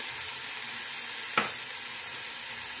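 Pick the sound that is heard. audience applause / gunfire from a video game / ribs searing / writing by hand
ribs searing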